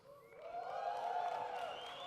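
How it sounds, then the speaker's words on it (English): An awards show audience cheering, with a rising whoop and crowd noise swelling over about two seconds. The sound is fairly faint and distant, and no one speaks. "Always gets a cheer."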